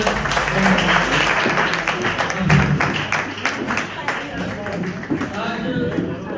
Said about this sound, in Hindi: आप सभी का एक बार जोरदार तालियों से स्वागत है।